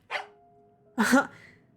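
In the horror game Tiny Bunny, a dog lets out two short whimpering yelps, the second louder and more strained, separated by a quiet pause with a faint steady tone in between.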